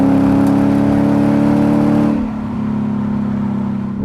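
Engine of a Lexus RC-F with paddle-shift automatic transmission, droning loudly and steadily as it drives, then dropping in pitch as a quick downshift lands, and continuing at a lower, slightly softer hum.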